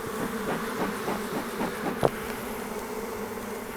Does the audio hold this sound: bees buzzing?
yes